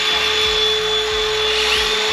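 A Hilti NURON AG6D-22 cordless angle grinder runs at full speed, giving a loud, steady high-pitched whine throughout, close up and with no other sound.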